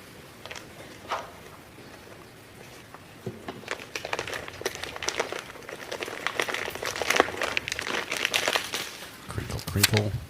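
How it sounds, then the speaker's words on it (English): A paper envelope is opened with sterile scissors in a courtroom, giving a series of crinkling and crackling paper sounds that grow busier and louder toward the end, with speech around it. "Crinkle, crinkle."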